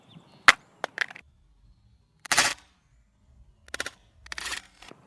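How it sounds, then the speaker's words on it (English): An iPhone 6 is dropped face down from 10 feet in a drop test, giving a sharp crack of impact followed by several scattered clattering knocks. The sounds are loud and close, with quiet gaps between them and no voices. "iPhone 6 face down drop test, 10 feet."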